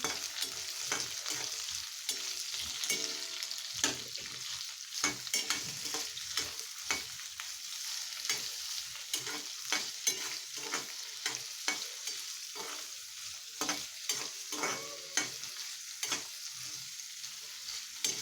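Paneer slices for a paneer Kolhapuri masala are sautéed on a high flame: a steady, bright sizzle is broken by quick, rhythmic scraping strokes of a spatula repeating throughout, with no voices.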